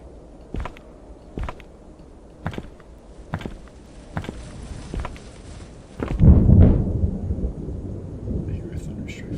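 Thunder in a dark video game rumbles in as a heavy low crash midway through, following a run of regular thudding footsteps, with faint whispery sounds near the end.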